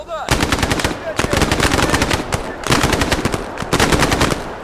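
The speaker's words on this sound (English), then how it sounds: "Shots." Rapid automatic gunfire from a video game battle, loud and close, with dense rattling bursts separated by brief pauses across the whole stretch.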